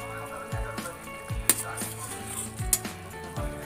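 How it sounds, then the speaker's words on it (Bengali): Fried rohu fish pieces go into a boiling fish curry. Several soft plops and splashes come with clinks of a utensil against the pot over a low background bubble. "তো দেখো মাছের ঝোলটা ফুটে গেছে, আমি এবার মাছগুলো দিয়ে দিচ্ছি এর মধ্যে।"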